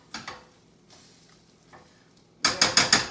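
Matza brei frying in a pan, sizzling and crackling, with a few soft stirring scrapes early on, then four loud rhythmic bursts of sizzle near the end, close up with no talking.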